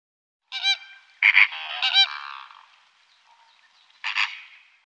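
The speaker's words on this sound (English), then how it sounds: "Flamingo." A flamingo gives nasal, goose-like honks, close and alone: a quick cluster of three or four calls, a fading tail, then one more honk after a pause.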